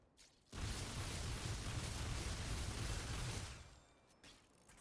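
A Bolt Driver weapon in the video game Remnant 2 fires in a dense, rapid stream for about three seconds, loud and close with no talk over it, then tails off into a quieter fading rumble.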